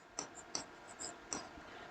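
Marker writing equations on a board in a maths lesson on triangles, with a few short squeaky strokes and soft taps in a quiet room, close and fairly faint.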